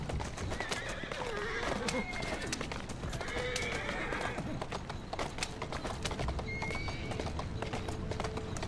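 Galloping hooves clatter steadily throughout as a horse runs and whinnies in Assassin's Creed Syndicate, with someone talking over the action.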